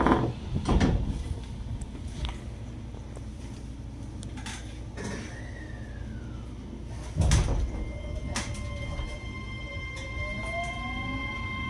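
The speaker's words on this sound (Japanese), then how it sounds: "ドアが閉まります。" Sliding doors on a JR Kyushu 817 series train thump shut with clunks and rattles, then a rising electric motor whine sets in as the train pulls away. The cabin noise is quiet and close.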